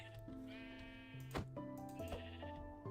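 Sheep in the video game Minecraft bleat a few times, with wavering, nasal calls that overlap one another at moderate volume.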